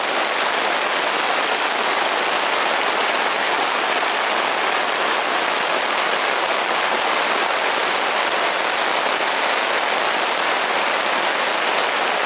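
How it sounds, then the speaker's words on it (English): Heavy rain pours onto a campsite in Deer River State Forest, a loud, dense, steady hiss of drops on surfaces that continues without a break. "The rain is really coming down now."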